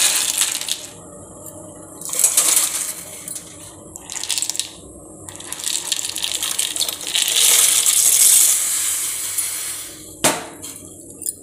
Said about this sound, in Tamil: இந்த பாஸ்தா இதில் போட்டுக்கலாம்.